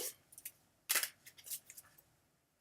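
A deck of cards being shuffled gives short papery riffles and flicks, one stronger burst in the middle among smaller scattered ones, quiet and close.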